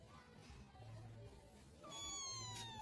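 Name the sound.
cat meowing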